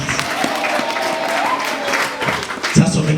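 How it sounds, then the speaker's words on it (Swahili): Church congregation bursting into sustained applause with ululation, steady dense clapping with a few sharp peaks, mixed with crowd voices at a sermon on the Holy Spirit. "Makofi na vigelegele sasa."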